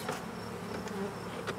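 Honeybees buzz steadily and close up while a hive is open for inspection, a dense continuous hum with no talk over it.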